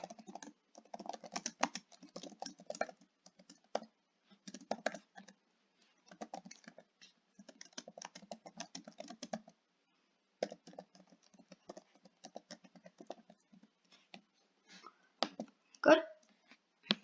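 Typing on a computer keyboard, quiet close-up bursts of rapid key clicks separated by short pauses, with one louder clack near the end.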